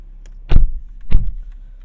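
Power window motor on a tuned BMW 340i xDrive, heard close up inside the cabin as two short whirring bursts about half a second apart over a low steady hum.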